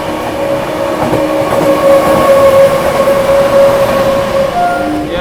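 Goods train hauled by a WAG-9 electric locomotive on the parallel track while the Howrah Rajdhani Express overtakes it slowly, a loud close steady rumble and roar of rolling wagons with a sustained tonal whine, no speech.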